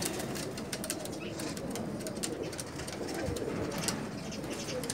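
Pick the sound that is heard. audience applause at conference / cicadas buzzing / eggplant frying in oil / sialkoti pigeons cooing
sialkoti pigeons cooing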